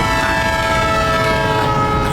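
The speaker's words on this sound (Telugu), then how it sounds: "అది సమోసా కాదు, ట్రైను." Cartoon train in an animated kids' show blares a loud, sustained horn over a constant rumble of the moving train, steady from start to finish with no talking.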